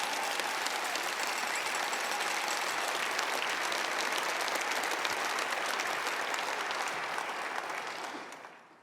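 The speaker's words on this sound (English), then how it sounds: "So can we give those three a round of applause?" An audience at a championship celebration gives sustained, dense applause that holds steady for several seconds before fading out at the end.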